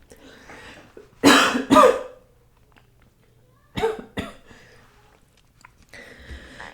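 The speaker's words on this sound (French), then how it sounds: "Je suis désolée d'avoir toussé" Several harsh coughs close by, a pair of loud ones, then a quieter pair after a pause, and a softer throat-clearing at the end.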